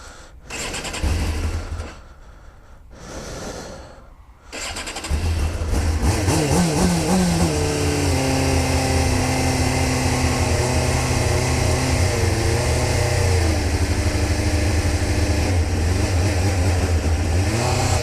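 A Suzuki Jimny engine cranks in two short bursts, then catches and is held at high revs. The close, loud, steady drone rises and falls slightly in pitch.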